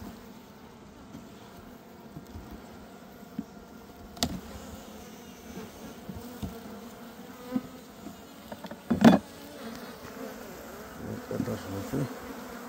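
Honeybees buzzing at hive frames after winter, a steady close swarm drone filling the whole clip with a few brief louder knocks and handling clatters from working the frames, no talking.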